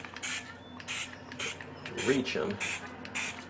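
Short aerosol bursts of spray sealer hit stamped cards, six brief hissing puffs spaced roughly half a second apart, with a few soft spoken words in between.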